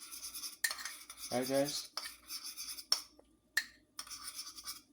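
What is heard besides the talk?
whisking sugar and cinnamon in a bowl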